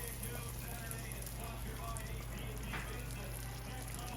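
Butter browning in a hot pan for chili cornbread, giving a steady, even sizzle and crackle throughout with a low hum underneath.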